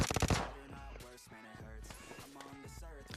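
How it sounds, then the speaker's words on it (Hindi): Video game gunfire: a quick burst of rapid shots at the start, then lighter repeated mechanical clicks and thuds from the game, moderately loud and close. "यहाँ पे भाई मेरे को गन गुन मिल जाती है और बंदे भी हैं तो उनको मारते हैं अब"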